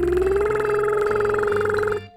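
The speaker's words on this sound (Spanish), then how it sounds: "Conocido como lip rolls, la moto, burbujitas, pedorretas, llámalo como quieras." A singer performs a lip roll vocal exercise, a buzzing lip trill carrying a steady, slightly rising pitch for about two seconds, loud and close over a low backing tone, then cutting off.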